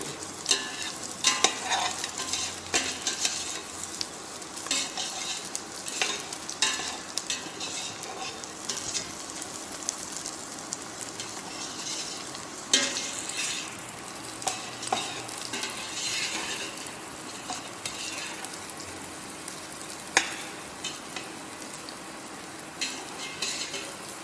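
Ingredients for a brown stock fry in a pan with a continuous soft sizzle while a utensil stirs and scrapes in irregular bursts, close and fairly quiet, with no talking.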